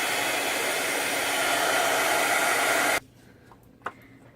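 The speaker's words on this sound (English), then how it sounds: "Now we'll get our heat emboss tool. We'll heat emboss this." A heat embossing tool blows hot air over embossing powder on a handmade fall card. It makes a loud, steady whoosh for about three seconds, then cuts off, leaving near-silence with a faint click.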